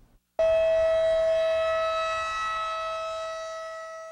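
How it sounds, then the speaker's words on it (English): A Sedgwick County, Kansas tornado warning siren starts abruptly and holds a loud, steady wailing tone, fading very slightly as it continues. "Sedgwick County's tornado siren system can be activated with the push of just a few buttons"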